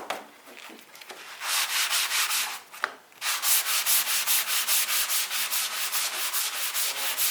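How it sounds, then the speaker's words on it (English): Sandpaper rubbing back and forth along the grain of charred, burnt wood, a steady close rhythmic scratching of even strokes after a few brief initial scrapes, with no voices. "The more you sand it, the more lighter spots you'll get with it."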